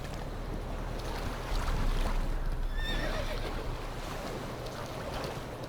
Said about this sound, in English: I'm going to take this horse down that old town road, and I'm going to ride till I can't no more.